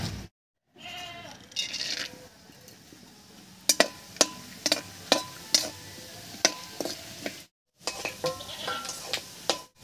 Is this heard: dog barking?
no